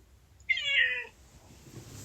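A single clear cat meow, rising and drawn out for about half a second, close to the microphone, followed by quiet room noise.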